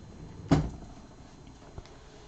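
A top drawer in a miniatures hobby workspace is pulled open with one sharp, close wooden knock, followed by a fainter click a little over a second later, with no talking.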